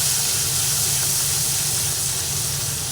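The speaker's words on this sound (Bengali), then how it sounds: "এইবার একটু ভালোভাবে একটু নাড়াচাড়া করে ভেজে নিই" Ginger and turmeric fry in oil in a pan, with fish curry in the making, giving a steady loud sizzle and hiss that holds throughout with no pauses.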